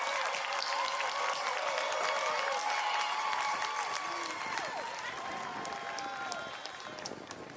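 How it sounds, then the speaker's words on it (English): Graduates of Southern University and A&M College are applauded at the Fall 2020 commencement ceremony, a broad, steady clapping crowd with some cheering, heard at moderate distance and fading slightly toward the end. "Let's give them a round of applause."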